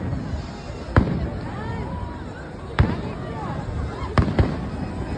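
New Year fireworks burst at Niagara Falls: four booming thuds at uneven gaps, heard from a distance under a crowd's chatter and nearby talking.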